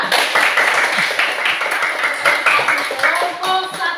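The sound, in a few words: class clapping for group 1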